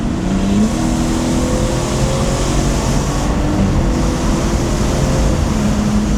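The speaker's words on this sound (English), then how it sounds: "I do love the turbo noises, and it's perfect because you don't have exhaust droning out the turbo noises" A turbocharged BMW inline-six, with mufflers fitted, accelerates hard, and turbo whine and whoosh rise over a loud, steady engine roar heard from inside the car.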